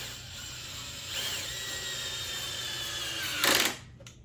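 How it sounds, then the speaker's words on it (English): An impact drill drives a crash cage bolt into a Kawasaki ZX6R motorcycle, a steady close whirring that ends in a short, louder burst of hammering near the end. "It's nice when you have an impact drill that tells you when you've done enough."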